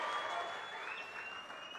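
Applause from a political rally crowd for Chief Minister Chandrababu Naidu comes as a faint, dense, steady wash of clapping from a distance.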